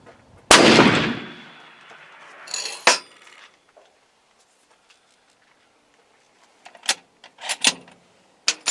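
A Mossberg Patriot .300 Win. Mag. rifle fires a single loud, close shot from a rest, with a boom that trails off into a long decay, followed by a few faint clicks and handling noises.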